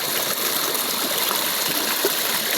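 Laya River water flowing in Cebu, a continuous close rushing stream with broad hissing splash, steady throughout and alone.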